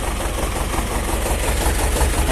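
A T-25 tractor's diesel engine idles steadily at close range, a low rhythmic chugging that holds constant with no voices, after the tractor has stood unused for two weeks.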